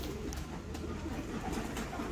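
Sialkoti pigeons coo softly in a loft, low repeated calls over a steady background hum with no clear talk.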